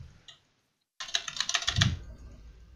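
Rapid typing on a computer keyboard during a Minecraft server game session, a dense burst of close clicky keystrokes after a brief pause, alone without talk.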